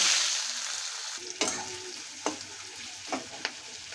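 Chopped onion fries in oil with bay leaf and cumin, a steady sizzle fading slightly while a spatula scrapes the pan in several distinct strokes.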